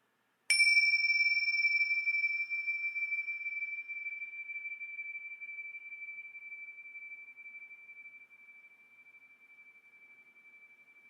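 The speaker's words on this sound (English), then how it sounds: "we'll begin this simple ritual with my own set of chimes" A set of chimes rung once for a home energy clearing ritual gives a single bright strike, then a pure ringing tone that fades slowly over about ten seconds in near silence.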